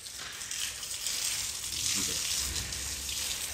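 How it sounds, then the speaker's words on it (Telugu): Water pours and splashes as a father waters garden plants in the evening, a steady hissing spray under faint background sounds, with brief low voice murmurs. "చెట్లకంతా నీళ్ళు పడతాడు"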